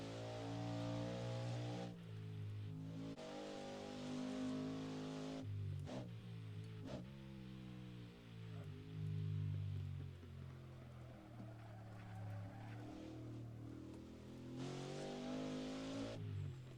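A Ford GT40 race car on a track, its engine roaring loud and close throughout, with revving and a gear change partway before pulling hard again.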